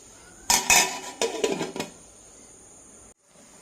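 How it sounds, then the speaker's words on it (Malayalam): A metal spoon stirs a pot of boiling water, making a quick burst of clanks and clinks against the pot's sides for about a second. A faint background hum follows, with no talking. "ഒന്ന് ഇളക്കി കൊടുക്കാം."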